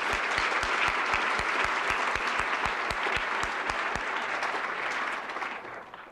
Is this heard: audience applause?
yes